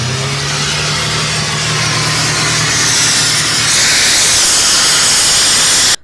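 A loud, steady fire truck engine drone with a hissing, spraying rush of water that grows brighter toward the end, continuous and close, during wildfire fighting.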